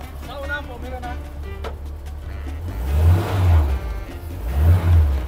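A Volkswagen Super Beetle 1303 engine idles with a low rumble, then revs up twice in strong surges, with someone talking nearby over the early part.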